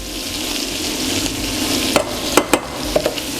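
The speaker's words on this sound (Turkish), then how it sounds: "Güzelce unu da etle beraber kavuruyoruz." Flour toasts with lamb in a pan, giving a steady close sizzle and frying hiss, with a few sharp scrapes and clinks from stirring near the end.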